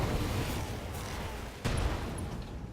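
An AC-20 autocannon fires a called shot in BattleTech, a heavy booming volley under steady rumble, with one sharp, louder impact roughly midway, and no voices present.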